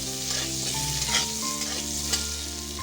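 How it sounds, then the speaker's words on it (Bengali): Potatoes seasoned with salt and turmeric fry in a pan with a steady, close sizzle, while a spatula stirs and scrapes through them in repeated strokes; no one speaks. "এগুলো দিয়ে ভালো করে ভেজে নিচ্ছি আলুটাকে"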